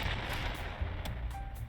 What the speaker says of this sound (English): For example, this throws a grenade on launch.